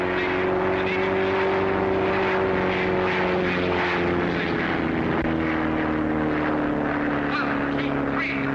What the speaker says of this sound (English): Here come the boys from the Navy, flying in perfect formation.